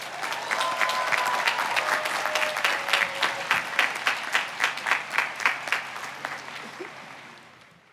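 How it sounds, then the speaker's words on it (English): A commencement audience at a College of Engineering ceremony applauds the valedictorians, a dense, loud wash of many hands clapping that settles into a rhythmic beat and fades out toward the end. "please join me in a round of applause to say congratulations to all of our valedictorians"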